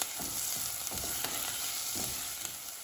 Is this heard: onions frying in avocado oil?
yes